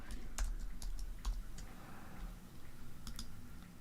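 Keys tapped on a computer keyboard in a few quick clusters of soft clicks, close but faint under a low room hum, with no talking.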